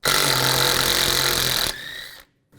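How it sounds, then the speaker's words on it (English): A power tool with a 12mm socket spinning a bolt out of a bracket on a 1997-2001 Honda CR-V during trailing arm bushing work: a loud steady whirring buzz near the tool, then a brief quieter whine before stopping abruptly. "Using a 12mm socket, you want to take this bolt out of this bracket."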